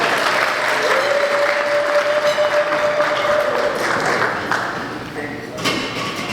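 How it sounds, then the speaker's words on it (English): A brunch audience at a track team event breaks into a warm round of applause that holds strong, then thins and fades toward the end as scattered claps and faint voices remain. "Let's give a warm round of applause for Mr. Ted James."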